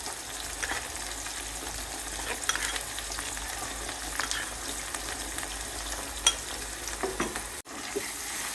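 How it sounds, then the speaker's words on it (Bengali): Mustard paste is stirred into frying spice masala for mustard hilsa, a steady close sizzle with soft scraping strokes and a brief drop-out near the end; no one speaks. "সর্ষে বাটা একটু ভালো করে নেড়ে মিশিয়ে নিচ্ছি।"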